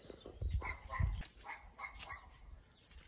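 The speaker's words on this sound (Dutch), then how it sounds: "Alleen maar hondjes en vogels." Dogs bark and yip intermittently at a distance in the quiet Alentejo countryside, short scattered calls against a faint outdoor background.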